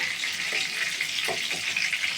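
Chicken pieces frying in hot oil for a homemade chicken fry, a loud and continuous bright sizzle with small crackles and pops, and no voices.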